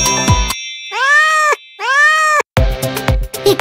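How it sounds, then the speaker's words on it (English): A cat meows twice in a children's nursery-rhyme toy setting, each meow a drawn-out, rising-and-falling call. The meows are loud and close, framed by brief chimes and musical sounds. "The cat goes, meow!"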